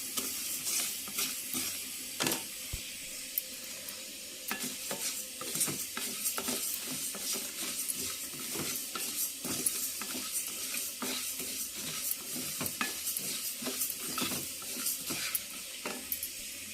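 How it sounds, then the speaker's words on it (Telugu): Spices and rice being dry-roasted for sambar powder in a pan: steady stirring and scraping with a light sizzle and frequent small clinks of a spoon against the pan, close and continuous, with no talking. "అన్నీ కలిపి చక్కగా మాడకుండా వేయించుకోవాలి"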